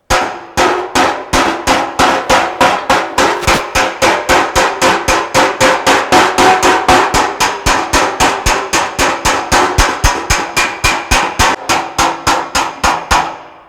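Steady, rapid metallic taps of a hammer against sheet metal backed by a dolly on a chopped 1932 Ford body, dozens of evenly spaced ringing strikes close up, no talking.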